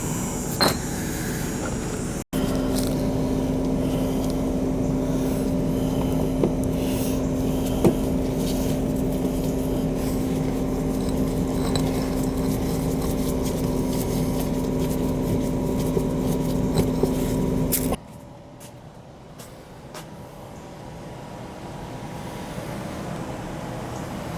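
A mini split air conditioner with freshly cleaned filters runs loudly and steadily, a constant hum with a tonal drone, then cuts to a much quieter background near the end.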